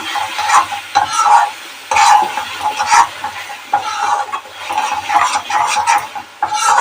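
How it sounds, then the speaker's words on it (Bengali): Spice paste of coriander, turmeric and chilli frying and being stirred in a pan for soybean chaap: repeated scraping stir strokes over a steady close sizzle, no voices. "দেখো ভালো করে আমি মশলাটা কষে নিচ্ছি"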